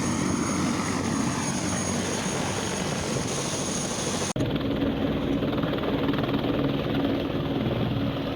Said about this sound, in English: Behind us here somewhere is a helicopter that we're going to jump on to get out to our final destination